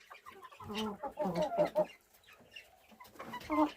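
Several hens cluck and chatter in close, uneven bursts on snow, with short pauses between the busy clusters of calls.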